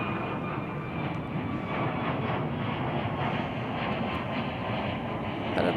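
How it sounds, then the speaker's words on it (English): United Airlines jet, flight 308, departing Chicago O'Hare for Santa Ana, a broad steady engine roar that holds evenly throughout at moderate distance, with no talking. "We do have a departure. That's flight 308 United Airlines headed to Santa Ana."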